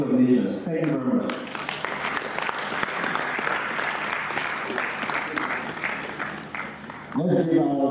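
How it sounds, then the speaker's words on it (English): Audience applause for a keynote speaker at a symposium, sustained clapping from a large crowd lasting several seconds, with a voice speaking briefly before it begins and again as it fades. "Let's give our keynote speaker another round of applause."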